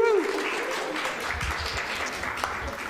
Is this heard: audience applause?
yes